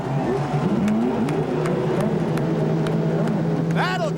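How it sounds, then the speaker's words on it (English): Indy race car engines at the 2001 Molson Indy Vancouver firing up and revving, a steady mechanical drone with rising whines, mixed under crowd noise and an announcer's voice. "Gentlemen, start your engines."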